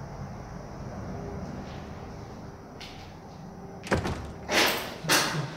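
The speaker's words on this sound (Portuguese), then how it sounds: "Porta bateu." A door bangs shut inside an abandoned restaurant: after a quiet, hollow room tone, a sharp thud is followed by two louder rattling slams, close by, with no voices.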